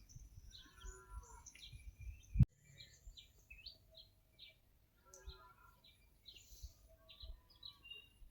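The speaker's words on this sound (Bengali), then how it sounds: "নির্মল বাতাস আর পাখি ডাক ছাড়া এখানে আর কিছু শোনা যাচ্ছে না" Small birds chirp and call in short, scattered bursts across a quiet Assam village, with a sharp knock partway through and faint low rumbles beneath.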